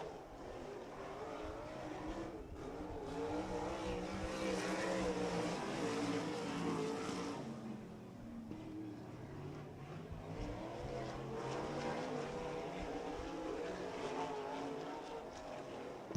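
Race cars at RPM Speedway roar down the back straightaway and into turn three during the Johnny Suggs Classic, a sustained, distant engine drone that rises and fades as the pack passes.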